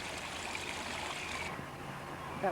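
Water churned by the turning wheel of an old flour mill rushes and trickles through its raceway in a soft, continuous wash, steady and fairly faint throughout, with a brief splash near the end.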